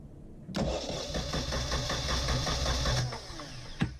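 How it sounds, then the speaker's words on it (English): A marine diesel engine on a sailboat cranks and catches at once, settling into a loud, steady mechanical chugging for a few seconds before cutting off with a brief knock. "It was finally time to test start the engine."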